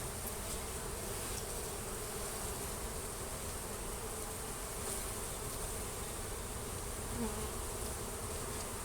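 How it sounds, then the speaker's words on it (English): A dense, steady hum of many honeybees buzzing close by around hive frames during a honey harvest, continuous and unbroken throughout. "I'm taking the frames of bees over to the entrance of the hive"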